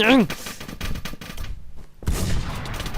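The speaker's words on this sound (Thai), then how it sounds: "เอาปืนร้อยนัดยิงมันฮะ" Quick rattling shots from a hundred-round gun in Minecraft's MineZ mode fire in short bursts, stopping briefly midway before resuming, loud and close, with a voice speaking over them.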